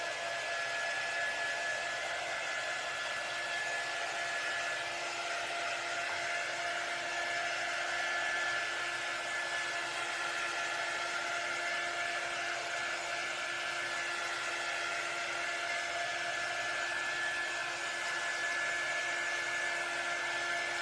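A hair dryer blows steadily for about twenty seconds, drying a transfer on a wooden craft sign with a constant, even whooshing whine, close up and uninterrupted.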